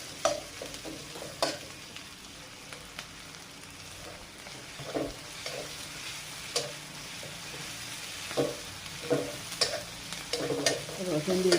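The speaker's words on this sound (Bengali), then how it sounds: "কাঁচা ঝাল আর পেঁয়াজ ভেজে নিচ্ছি।" Green chilies and onions fry in a pan for a Bengali snakehead fish and bottle gourd dish, a steady sizzle broken by repeated scraping stirs and clacks from a spoon, close and moderately loud, with no talking.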